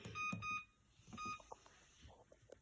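A cooker timer beeps as it is set while making chicken and cheese quesadillas: a few short, clear electronic beeps in quick pairs, followed by quieter clicks and kitchen handling sounds.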